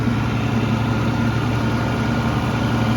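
A farm tractor pulls forward with its PTO engaged to cut grass. Its engine gives a loud, steady, low drone throughout, with no talk over it.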